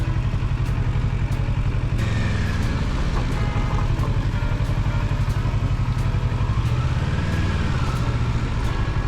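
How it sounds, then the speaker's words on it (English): A motorcycle idles at a ferry dock with a steady low engine rumble and regular mechanical ticking, close and continuous, with faint clatter from the surroundings. "Oh, there's another motorcycle."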